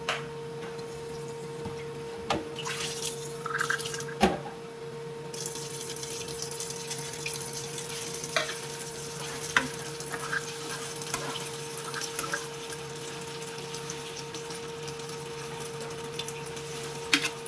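Water poured into a pan of frying garlic butter chicken after ketchup, with steady sizzling and scattered clinks of stirring running throughout, close and moderately loud with no talk.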